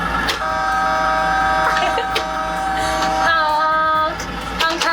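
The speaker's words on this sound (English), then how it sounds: "Let's honk the horn." A front loader's horn sounds in several short toots with bright tonal bursts, close and fairly loud over the idling machine.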